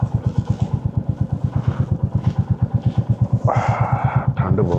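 A motorcycle idles close by with a steady, even, thumping engine pulse. Near the end the engine note rises briefly as it is brought in and parked at a home on a cold day.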